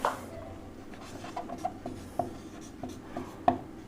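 Pen writing on paper while solving a Class 8 math exercise on cube volumes, soft scratchy strokes with a few sharper taps, close and quiet, no talking.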